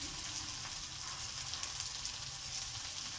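Potatoes seasoned with salt and turmeric frying in a pan with prawns, a continuous close sizzle with faint stirring and no talk over it.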